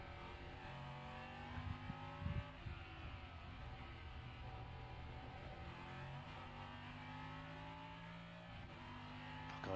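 Race cars in the iRacing sim pull away from the pits, several engines revving and droning steadily with rising and falling pitch, a couple of brief louder bursts early on, no voices.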